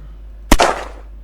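A single sharp gunshot in the Unturned video game, fired once, close and loud, with a short decaying tail and no speech.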